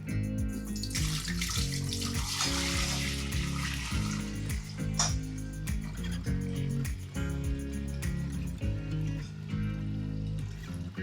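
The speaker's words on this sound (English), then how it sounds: "Now we're just gonna pour the tea in." Tea is poured into a pot while brewing kombucha, a splashing liquid stream over the first few seconds, heard beneath loud rhythmic background music that continues throughout.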